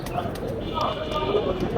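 A young Tula breed pigeon chick cooing in a Khulna pigeon loft, a couple of soft, low coos against a busy background, with a voice nearby.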